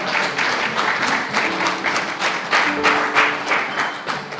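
A church congregation applauds, steady dense clapping from many hands filling the room, with a few scattered voices over it.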